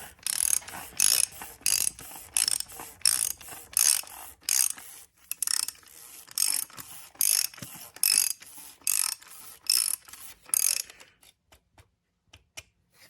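A ratchet wrench tightens the oil filter on a 2015 VW Jetta 1.8T, a rapid series of crisp clicking bursts in a steady back-and-forth rhythm, close and loud, tapering to a few faint clicks at the end.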